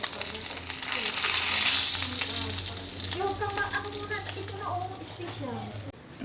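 Food fries in hot cooking oil in a pan, a loud, crackling sizzle with bursts of spattering. A person talks over it and there are faint background voices, and the frying continues almost to the end.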